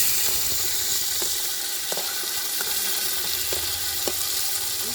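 Oil sizzles steadily in a pan while chicken pulimunchi is cooked, a continuous crackling fry with a few sharper pops and stirring clicks at a moderate level, no voices.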